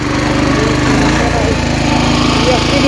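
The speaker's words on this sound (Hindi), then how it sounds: "ये देख सकते हैं दोस्तों, फाइनली स्टार्ट हो चुका है ट्रैक्टर" A tractor engine runs loudly and steadily right after starting in hilly terrain, a close, rapid chugging rumble that fills the short stretch without a break, with some talk faintly mixed in.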